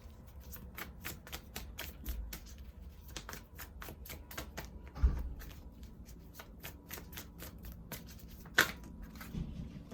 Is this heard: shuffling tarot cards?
yes